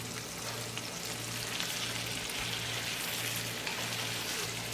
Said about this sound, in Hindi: जिंजर गार्लिक पेस्ट को अच्छी तरह से फ्राई कर लें प्याज के साथ